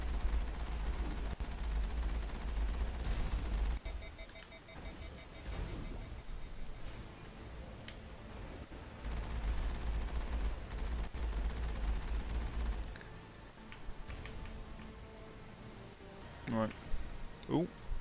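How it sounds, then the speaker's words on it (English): In the video game Mass Effect, enemy rockets fire and hit with repeated low booms and sharp blasts, spread irregularly over a busy, noisy fight scene, some close and heavy, others softer. "Would you stop shooting rockets at me?"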